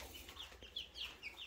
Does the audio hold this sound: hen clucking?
yes